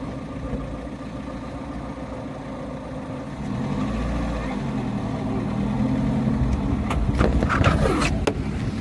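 Truck engine running as it pulls away, a steady low rumble that grows louder midway and stays close, with a few sharp clicks and knocks near the end and faint voices in the background.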